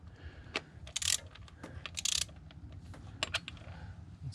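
A hand ratchet clicking as bolts on the breather box of a 2015 Volvo V60 T5 2.0T are snugged down, quick bursts of close metallic pawl clicks with brief pauses between turns.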